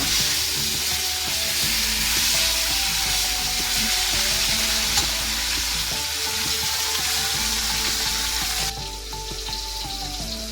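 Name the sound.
rohu fish frying in a pan after being flipped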